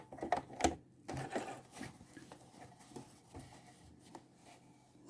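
A sewing machine stitches a straight line in short, uneven bursts of rapid mechanical clatter, with louder thumps at the start and quieter running after that. The machine is close and no one speaks.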